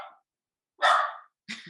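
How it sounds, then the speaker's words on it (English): A noisy house dog barks in the background at home, three sharp, fairly close yaps separated by silence, the middle one longest and loudest. "Sorry, I got a mouthy dog in the background."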